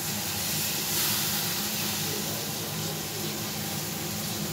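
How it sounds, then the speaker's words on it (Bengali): A broad, steady hissing gush of water pours into a cooking pot of potatoes for a few seconds, loud and close, with no talking. "এবার আমি জল দিয়ে দিচ্ছি।"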